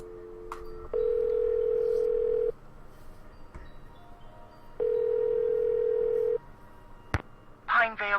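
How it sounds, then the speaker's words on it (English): A telephone in a Nancy Drew video game: two long, steady dial-tone stretches broken by short clicks and brief beeps, with a voice speaking briefly near the end. "Let's make a phone call."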